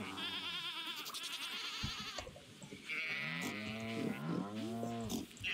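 Cartoonish farm animals in the Stardew Valley video game call out in turn, with cow moos and sheep and goat bleats, clear and close with no talk.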